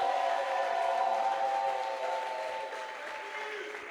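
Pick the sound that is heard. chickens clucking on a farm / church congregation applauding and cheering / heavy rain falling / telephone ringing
church congregation applauding and cheering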